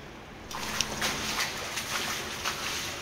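Water running and trickling through an underground stream channel in a tunnel beneath Marousi, a steady close wash with light splashes, echoing and alone without voices.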